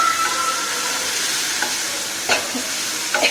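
Puffed rice mixture with dry chili powder and sugar being stirred, a steady close scraping and rustling texture with a few brief sharper clinks, no talking.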